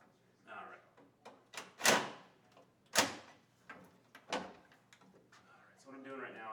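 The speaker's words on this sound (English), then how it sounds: "So what I'm doing right now is I'm just basically attaching the drawer guide just a little bit." Installation of a Grass drawer slide guide inside a cabinet, with sharp knocks and clacks of the slide and screws set at uneven intervals, a few louder impacts standing out, close up with some talking at the end.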